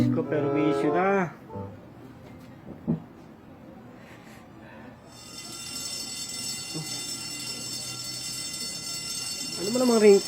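A shrill, alarm-like electronic ringtone starts partway through and keeps ringing steadily, following a voice speaking at the start and before another voice at the end.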